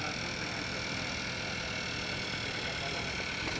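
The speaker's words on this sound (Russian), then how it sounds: "Все, тачка заведена." A car engine idles steadily just after starting, a constant close hum and rattle that holds level through the whole short stretch.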